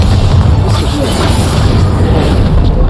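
A Bombarda spell detonates in the Hogwarts Legacy video game, a loud, dense booming blast that rolls continuously with crashing debris and no pause throughout.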